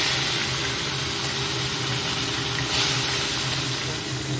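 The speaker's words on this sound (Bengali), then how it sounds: "একটু ভালো করে ভেজে নিতে হবে।" Fish seasoned with turmeric and salt fry in hot oil, giving a loud, steady sizzling hiss that runs unbroken, with a slight swell near the end.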